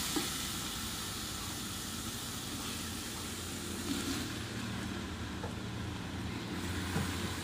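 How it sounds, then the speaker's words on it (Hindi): Okra hits a pan of frying masala and meat, giving a steady, dense sizzle and hiss that stays even throughout, moderately loud and close, with no talking. "ये मसाला हमने भून लिया है, अब हम इसमें भिंडियाँ डाल देंगे।"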